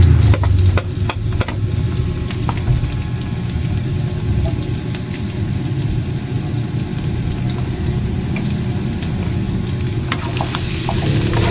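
Garlic sizzles while being sautéed in a pan for an egg tofu and eggplant sisig party tray, a steady, close frying hiss with occasional stirring scrapes running throughout.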